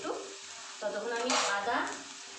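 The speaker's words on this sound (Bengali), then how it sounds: "পেঁয়াজটা এখানে দিয়ে দিয়েছি, পেঁয়াজটা ভাজা ভাজা হোক একটু" Onions fry in a pan for biryani dal, giving a soft, close sizzle with short scraping stir sounds over about two seconds.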